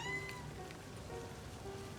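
A cat meows in a video game, a faint, thin mewing tone heard against a steady hiss of rain.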